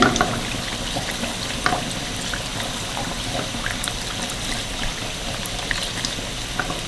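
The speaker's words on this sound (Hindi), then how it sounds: "इनके ऊपर भी उसी तरह हम ऑयल डालेंगे।" Hot oil is poured over chicken kachoris frying in a pan, giving a steady bubbling, crackling sizzle with small pops throughout, close and even, with no talking.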